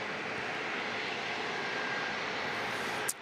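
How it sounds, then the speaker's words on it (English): Embraer Phenom jet taking off at San Diego International Airport, a steady broadband engine roar at moderate distance, fairly quiet and unbroken, ending in a brief sharp click. "So we get a takeoff. Looks like an Embraer Phenom."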